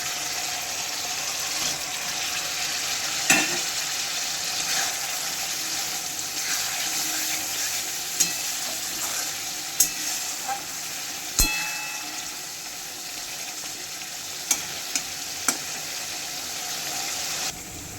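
Prawns frying in spiced oil for Bengali chingri malai curry, a steady close sizzle with bubbling crackle and a few sharp pops and utensil knocks throughout.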